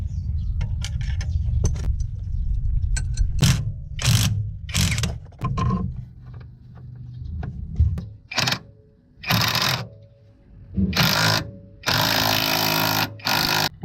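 Mechanical clatter and ratcheting from a jack raising a Honda Civic's suspension during a coilover sleeve install, coming in irregular bursts with longer, louder clanks toward the end.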